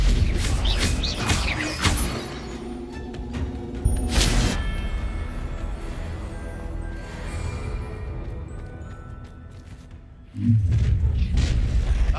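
Spell blasts in the video game Hogwarts Legacy: loud booming magical impacts and bursts crash in succession over a dense, rumbling battle soundscape, with a heavy thump near the end.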